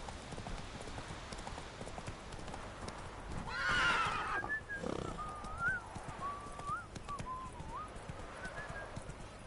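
Roach the horse's hooves clip-clop steadily in the video game Witcher 3, with a loud whinny partway through and faint whistling tones drifting over the ambient background.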